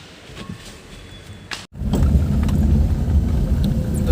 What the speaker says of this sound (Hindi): ये देखिए गाड़ी का ट्रायल मार रहे नैनो का, खड्डे में से रफ रोड पे भी चल रहे हम लोग